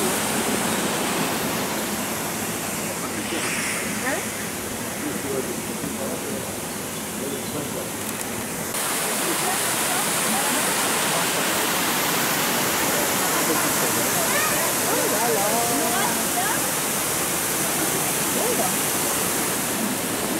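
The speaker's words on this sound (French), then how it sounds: "Et on devine la cascade derrière les branches des arbres." A waterfall hidden behind tree branches and vegetation pours as a dense, constant rushing hiss, loud and unbroken for the whole stretch, with no voices over it.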